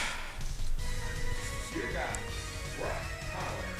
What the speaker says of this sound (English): I apologize if you hear the dogs barking.